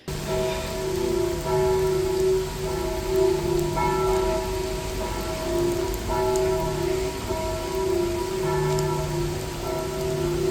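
Steady rain pours down in a dense hiss in Florence, while a bell tolls repeatedly through it at a slow, even pace.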